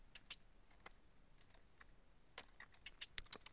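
Quick, faint clicks of fingers typing on a computer keyboard in short bursts with pauses, close by, with no voices.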